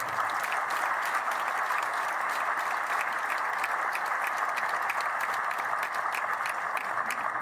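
Crowd applauding loudly and steadily at a BJP political rally in Panchkula, a dense, sustained wash of clapping throughout with no break.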